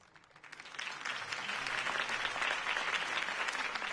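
Crowd applause at a political campaign rally in Batman: The Telltale Series, a dense clapping that swells in over the first second and then holds steady and loud.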